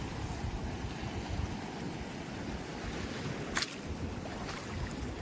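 Sea waves rolling in at night during high tide wash steadily along the shore, with continuous surf and wind noise, one brief louder splash partway through, and no speech.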